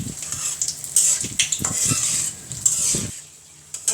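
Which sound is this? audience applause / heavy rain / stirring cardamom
stirring cardamom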